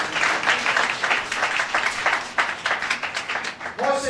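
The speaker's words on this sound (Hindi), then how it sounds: "ताली बजाकर प्रभु का धन्यवाद करें।" A church congregation claps steadily during a sermon, dense rhythmic applause that runs for several seconds before a voice and music come in at the end.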